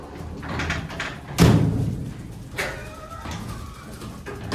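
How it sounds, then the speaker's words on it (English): The manual wood gate and doors of an old Marshall hydraulic freight elevator bang and thud, with one loud slam, lighter knocks after it and a faint rattle between. "It still has a manual wood gate and security"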